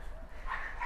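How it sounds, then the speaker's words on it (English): A single excited dog barks somewhere in the distance, faint and brief beneath low room hum, during a home mobility workout while dogs are walked through a residential complex. "Excuse the barking in the background."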